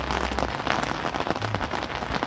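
Rain falls outdoors at the Western Wall in Jerusalem on a cold, windy day, a dense, steady patter of drops hitting hard surfaces close by, with no voices.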